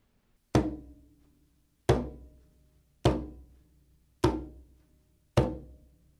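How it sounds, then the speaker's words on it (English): Five deep, soft conga bass tones struck in the center of the drum with a relaxed, dropped hand, evenly spaced about a second apart, each a dull thump that decays quickly into silence, played alone. "It will look and sound like this, bass tone."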